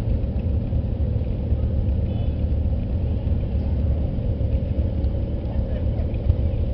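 A 1940 Ford N tractor drives past in a steam threshers' parade, giving off a steady low engine rumble that stays constant and fairly loud throughout, with no voices heard.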